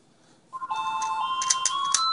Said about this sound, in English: And now I also got a phone call.